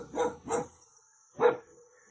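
A dog at an old mountain farmhouse gives three barks, two in quick succession and a third after a short pause, fairly distant and clear.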